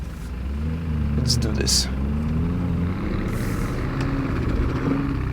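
A Lamborghini Urus engine working against a snow obstacle in second gear, a low, steady rumble that rises slightly as it strains, heard close with someone speaking briefly over it.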